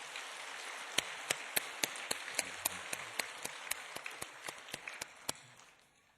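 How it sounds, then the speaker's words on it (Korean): In a church, a congregation applauds the choir with soft, diffuse clapping, and a single sharper clap sounds in an even rhythm over it. Everything is quiet and distant, and it fades out at the end. "우리 찬양대 격려 박수 한번 더 해드립시다."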